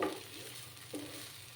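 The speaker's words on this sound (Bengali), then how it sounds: "আর একটু সময় আমি ভাজা ভাজা করবো" Bean paste (sim bhorta) frying and being stirred in a pan, a continuous soft sizzle with a couple of scraping strokes from the spatula, close and quiet.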